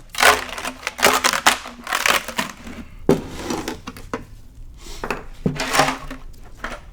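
Water sloshes and rattles inside a metal motorcycle gas tank with its lid on, shaken in loud bursts with brief pauses in between.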